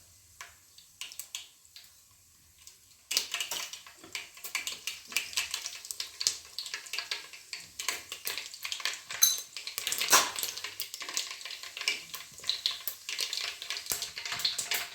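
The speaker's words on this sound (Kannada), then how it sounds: "ಸಾಸಿವೆ ಚಟಪಟ ಆಮೇಲೆ ಬೆಳ್ಳುಳ್ಳಿ ಹಾಕಬೇಕು." Mustard seeds crackle in hot oil for tempering in Maharashtrian khobar bhaji, a dense run of sharp pops and spits starting after a few quiet seconds and continuing close and fairly loud to the end.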